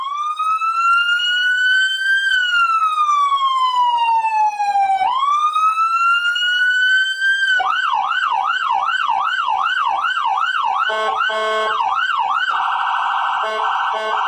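Police car and ambulance sirens used as a radio sound effect, a long rising and falling wail followed by fast yelping warbles, loud and continuous with no talk.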